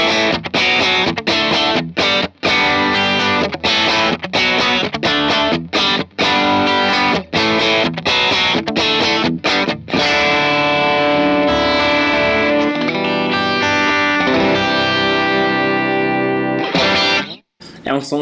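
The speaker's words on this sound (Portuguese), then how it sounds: "Se você acertar esse amplificador com um compressor, aqui no caso eu estou usando um Dynacomp modificado pela Mad Lab" Electric guitar through a Strymon Iridium amp modeler, fed by a Dynacomp compressor modified by Mad Lab, playing loud, compressed, slightly overdriven chords and riffs that give way to sustained ringing notes, close and continuous with no talk.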